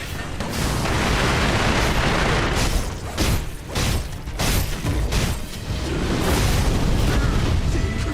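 Firecrackers going off in the video game Sekiro: Shadows Die Twice, a loud dense barrage of cracking bursts and booms running nearly continuously, with no talking.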